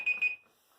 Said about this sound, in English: I had a timer so I didn't talk for too long